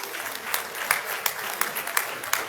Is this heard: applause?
yes